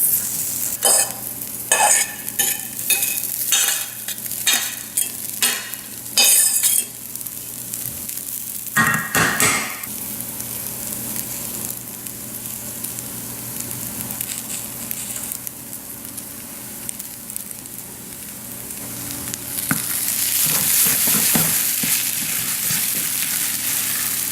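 Broccoli, quinoa and cheese sauce cooking in a pan, with a steady low sizzle under irregular scraping stirs and knocks of a utensil, close, growing into a louder hiss toward the end.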